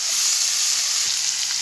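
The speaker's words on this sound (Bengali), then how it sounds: "হালকা করে একটু ভেজে নিলে সবজিটা কাঁচা গন্ধটা থাকবে না।" Winter vegetables lightly frying in oil with salt give a steady, close sizzle, an even bright crackling hiss with no pauses and no voices.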